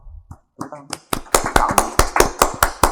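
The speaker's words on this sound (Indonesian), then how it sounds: "Beri tepuk tangan yang meriah kepada Rudi Hartono." A few people clap to welcome a school-official guest on a podcast, starting after brief talk and building into a run of about a dozen loud, close, evenly spaced claps.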